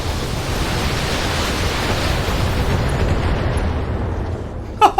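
Heavy weapons fire and explosions from mechs in the BattleTech game: a dense, loud, continuous roar of blasts and rumbling fills the whole stretch, ending with a couple of sharp bursts.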